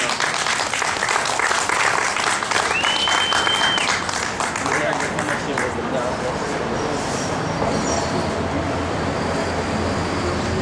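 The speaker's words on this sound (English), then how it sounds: "Another round of applause," Applause rolls through an outdoor FreedomFest rally crowd in Trenton, New Jersey, loud and sustained for the whole stretch, with a brief whistle-like tone and some background noise mixed in.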